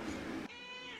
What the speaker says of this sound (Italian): No, ma Gatto Denver! Tu non sei ammesso sul lettone